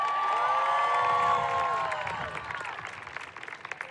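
A high school graduation audience applauds and cheers loudly, the clapping swelling with whoops before tapering off, with tonal music or feedback ringing over it.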